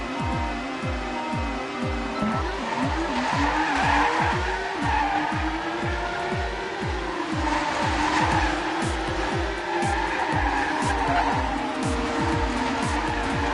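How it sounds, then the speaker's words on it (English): A Super GP race car in the Dreams video game runs a lap: a loud, continuous engine whine climbs and falls through rapid gear pulses, with tire squeal on the corners throughout. "There's also this Super GP released by Insane Artist and Anime Boy. Again, we'll just do one lap"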